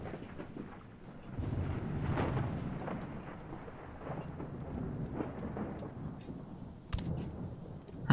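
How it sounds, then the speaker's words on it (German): Thunder from lightning strikes in the Minetest video game rolls in as a low, rumbling swell lasting several seconds, followed by a sharper crack near the end. "Aber er müsste die Blitze nicht eigentlich bei den Bäumen einschlagen"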